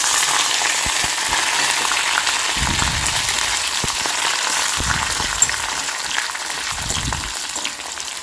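Dried red chillies, garlic and curry leaves fry in oil with a constant, bright, crackling sizzle, broken now and then by soft stirring thuds and a few sharp pops.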